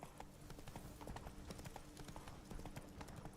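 Hooves of Roach, the horse in The Witcher 3 video game, clip-clop in a steady, fairly quick rhythm of sharp repeated knocks. The hoofbeats run throughout at a moderate, even level.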